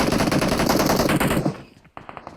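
Gunfire in the BGMI mobile battle game: a loud, dense automatic burst rattles for about a second and a half, then stops, followed by a few fainter isolated shots.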